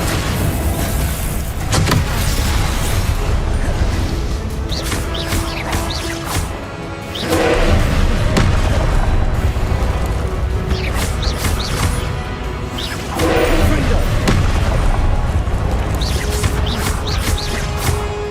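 Fire spells Incendio and Confringo go off in Hogwarts Legacy, a loud dense roar of crackling bursts with two big surges, and the blasts run almost continuously with no break.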